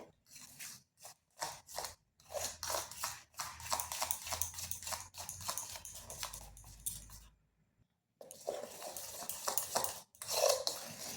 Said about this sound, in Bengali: এটা ভালো করে মেশাতে হবে যেন কোনো রকম লাম্পস না থেকে যায়